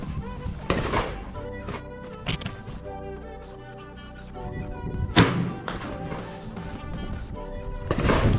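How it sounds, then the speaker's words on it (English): A Marlin 1895 SBL lever-action rifle fires a single sharp, loud shot at an outdoor shooting range, ringing out amid voices and other background sound. "We're gonna give him one headshot just to wrap things up out here at the range."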